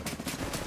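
A short, dense burst of rapid gunfire from a video game, loud and close with no talking over it.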